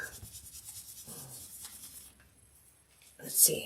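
A stiff paintbrush rubs and scrubs paint into a duck painting with soft, close scratchy strokes over the first two seconds, then a short louder brush or handling sound near the end, with a brief spoken phrase.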